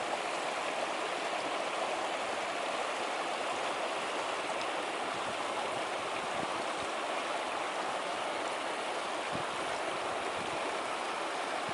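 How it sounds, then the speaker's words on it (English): Rushing creek water tumbles in a constant, dense roar through South Gate Meadows on Mount Shasta, close and steady throughout with no voices. "You can hear the water tumbling"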